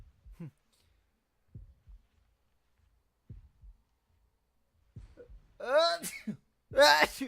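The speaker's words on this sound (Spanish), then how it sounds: "Estornudo." A character sneezes in the Android horror game Horrorfield, two loud voiced bursts close together at the end, preceded by a few faint soft thumps.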